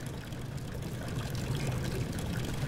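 Water being poured into an empty jar in the video game Amnesia: The Dark Descent, a steady splashing trickle with a low rumbling undertone, continuous and fairly close.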